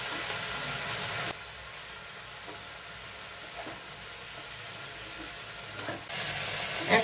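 Tomatoes go into a frying pan of Bengali beans posto with a loud burst of sizzling, which settles into a steady hiss of frying with light stirring before flaring up again at the end.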